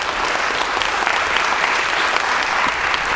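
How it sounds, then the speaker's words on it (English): Audience in a community college theatre applauds during a Q&A premiere event, a loud, full burst of clapping from a packed room sustained evenly for a few seconds. "Would you go away so you can come back and people can applaud when you come back?"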